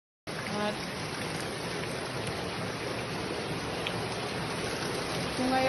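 Floodwater rushes like a river through the streets of Lahat town, a steady broadband wash of flowing water that stays loud and constant throughout with no pause.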